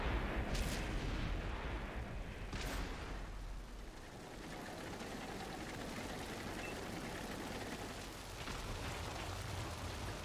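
Artillery fire in World of Tanks, an IS-7 heavy tank battle on the Port map: two sharp distant blasts in the first few seconds, then a dense rumbling wash of battle noise, with a further thud near the end.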